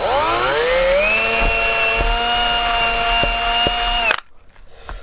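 A power drill widens a hole for a porthole in the metal body of a Citroen Relay camper van. Its motor spins up into a loud, steady whine, then cuts off sharply and leaves a quiet tail.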